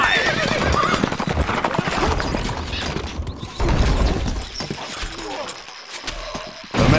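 Horses in the Stronghold Crusader strategy game whinny and neigh, then clatter off with clip-clopping hooves and rattling gear, loud and close with game voices speaking over the action.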